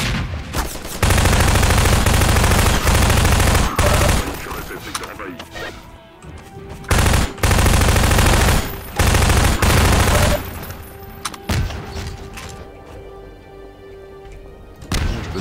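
Bursts of gunfire from enemies in Half-Life 2 come in dense, loud volleys with short pauses, then thin out into scattered shots and mechanical clatter as a player speaks in French.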